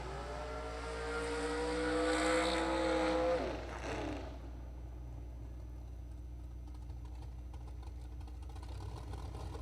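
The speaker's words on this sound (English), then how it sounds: "So burnout's complete, and they are staging, folks." A top fuel dragster at a drag race finishing its burnout: a loud, broad engine roar for about four seconds that cuts off sharply, leaving a lower, rougher idle rumble and background noise.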